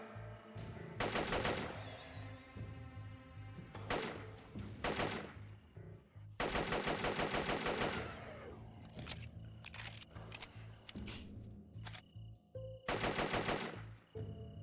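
Gunfire in Grand Theft Auto V comes in several loud bursts of rapid automatic shots separated by short pauses, with single shots and thumps between them and no talk.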